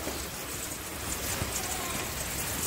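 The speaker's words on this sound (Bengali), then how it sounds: "বৃষ্টি হচ্ছে" Steady monsoon rain falling outdoors, an even, continuous hiss of drops at moderate volume with no talking.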